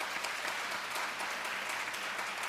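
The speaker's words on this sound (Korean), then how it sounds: "환영의 박수 부탁드리겠습니다" Church congregation giving welcoming applause during a Sunday morning service, dense, steady clapping from many hands throughout, fairly loud and without talk.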